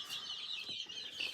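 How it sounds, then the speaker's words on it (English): Young chickens kept indoors for chick care cheep and cluck softly in a continuous, high, busy chatter, faint and steady with no talk. "I have who knows how many chickens here"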